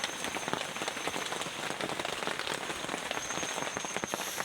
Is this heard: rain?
yes